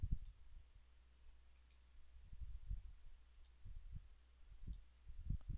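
Sparse computer mouse clicks, close and quiet, arriving in small irregular pairs and singles over a low steady background hum, with no voice.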